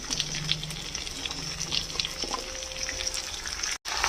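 Mixed vegetables drop into a pan with lightly fried onion for a bitter gourd dish, producing a moderate, fairly soft frying hiss with faint stirring clicks and a watery edge, no talk.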